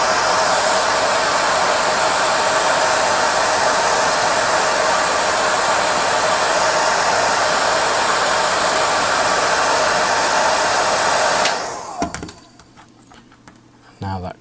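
Heat gun blowing hot air onto decals on the fairing of a 1:12 Tamiya Repsol Honda RC211V '03 model motorcycle, a loud steady hairdryer-like rushing hiss that cuts off abruptly near the end, followed by quiet handling noises.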